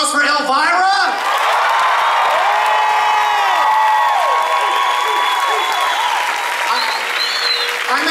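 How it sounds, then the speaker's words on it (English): A large crowd at a Knott's Berry Farm Halloween Haunt preview event with Elvira claps loudly while people whoop and cheer with rising, high-pitched shouts throughout. "Can we have another round of applause for Elvira?"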